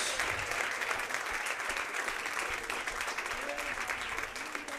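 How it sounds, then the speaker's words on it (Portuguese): A church congregation applauds during a worship service, a dense, steady clatter of many hands clapping throughout, with voices faintly mixed in. "aplauda o Senhor Jesus"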